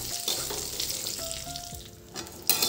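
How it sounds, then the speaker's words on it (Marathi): Stuffed capsicum sautés in a pan, a steady sizzle with soft stirring scrapes, plus faint tonal background sounds and a sharp clatter near the end. "आता मी याला चांगलं परतून घेते आणि शिजायला ठेवून देते."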